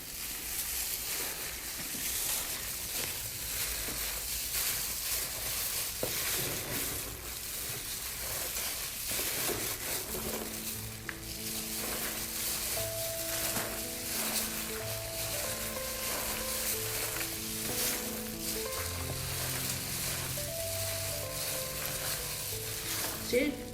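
Salted cabbage for kimchi being mixed by hand, a dense continuous wet rustling and squelching close by, steady and unbroken, with faint music rising later.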